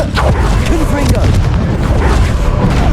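Confringo fire spell blasts in Hogwarts Legacy combat: loud, dense booming bursts that run together continuously with no pause.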